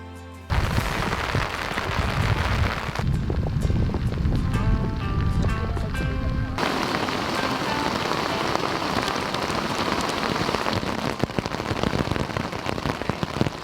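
Rain falling outside a camper van during a wet, stormy trip, a dense steady patter of drops drumming on the surface, loud and continuous, with a change in tone partway through.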